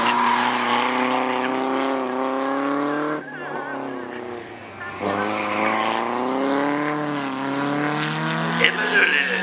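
A Peugeot 206 rally car drives hard at a rally event, its engine a loud, sustained rising and falling whine through gear changes, continuous for the whole stretch.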